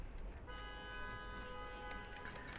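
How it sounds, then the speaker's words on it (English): Car horns honk in a busy Chinese street, a steady sustained toot layered with traffic noise, fairly distant and continuous under the general city din. "They love to honk horns."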